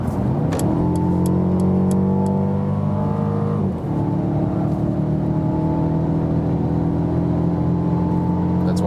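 A Mercedes CLA 250 4MATIC accelerates hard from 100 to 150 on a motorway. Its engine tone climbs steadily inside the cabin, dips briefly at a gear change, then keeps rising under constant road and wind noise.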